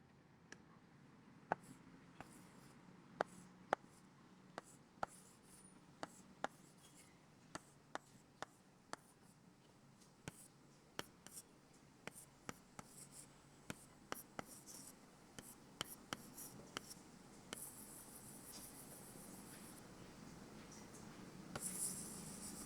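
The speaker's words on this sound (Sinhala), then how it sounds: "ලිව්වා." Pen or pencil writing on paper during a grade 6 maths lesson, numbers and number lines jotted down as a quiet, steady run of scratchy strokes and sharp taps, close and soft with no talk.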